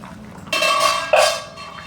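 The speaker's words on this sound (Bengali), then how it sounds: "আবার ঢাকনা দিয়ে দিলাম।" Metal lid set back onto a pot of chicken curry with potatoes, two bright clanks about half a second apart, the second one sharper, each ringing briefly before fading, close and fairly loud.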